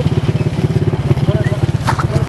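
A bentor motorized pedicab rides along in Morotai, North Moluccas, Indonesia, its engine putting out a steady, rapid low putter while a person talks over it.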